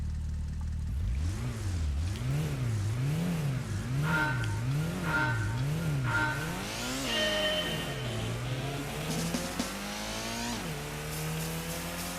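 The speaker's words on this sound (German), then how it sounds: "Das war ein harter Drift" Car tyres squeal through a hard drift in Gran Turismo, a wavering, rising-and-falling screech over a revving engine, repeating in rhythmic pulses as the car slides, then settling into a longer accelerating whine.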